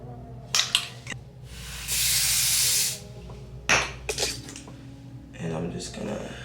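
A steady hissing burst of hair spray lasting about a second, amid clicks, rustling and handling noises close by during a wig install.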